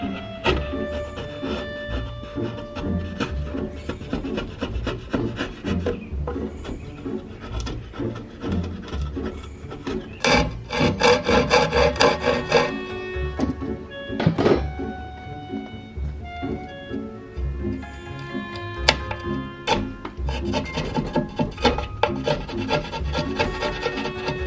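Sharp, freshly honed chisel paring wood by hand at a workbench, with no hammer: steady rasping, scraping strokes in repeated bursts, close and fairly loud.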